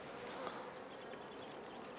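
Honey bees drone softly and steadily around an open hive during honey sampling, a faint, even buzz with no voices.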